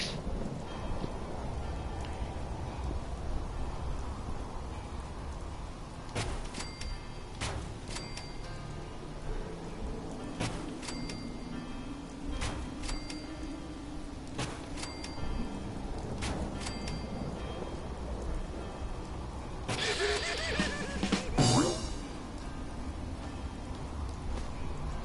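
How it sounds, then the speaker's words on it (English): Steady rain falls in the video game Fallout 4, a soft constant patter with occasional thunder rumbles and a brief louder crackle near the end, heard alone at low volume. "I can clearly see that it's raining in my game."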